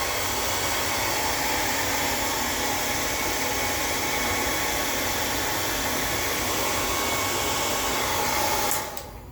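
A hair dryer blows steadily and loudly on a beard during a grooming trim, a dense continuous whoosh that holds for about nine seconds before cutting off abruptly at the end.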